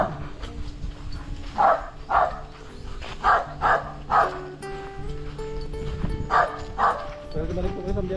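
A fierce dog barks in a series of loud, close yelps, some in quick pairs, spread across several seconds while people talk over and between the barks.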